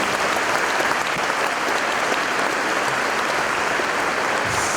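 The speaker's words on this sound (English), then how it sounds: "I want to extend another round of applause to the student speakers today" Sustained, dense applause from a large audience at a high school commencement, a steady wash of clapping that holds evenly throughout.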